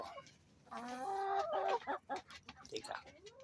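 A chicken gives a drawn-out cluck followed by several quick, choppy clucks, close by, with faint background noise.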